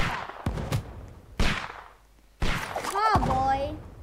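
Rifle shots in a tower defense video game: three sharp, loud cracks at irregular intervals, each trailing off in a decaying echo, with a voice speaking over the last one.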